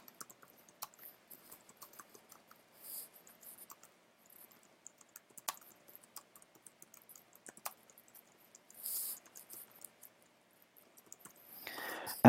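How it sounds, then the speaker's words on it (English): Scattered keystrokes on a computer keyboard, faint and irregular clicks spread across a quiet room with occasional soft rustles and a louder clatter at the end. "So I'm going to type something here"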